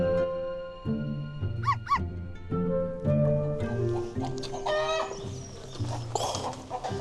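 Chickens at a restaurant known for its chicken dishes cluck and squawk in short, fairly close bursts over a steady, tonal background.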